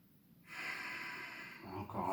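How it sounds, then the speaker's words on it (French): Deep breath during a yoga exercise, heard as one long, soft, close exhalation followed by a short intake at the end. "Respirez bien."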